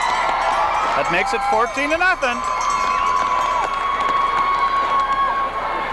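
Football crowd at the 1988 Division 6 state final between Turtle Lake and Oakfield roars steadily after a Turtle Lake touchdown, a broad sustained din under an announcer's voice.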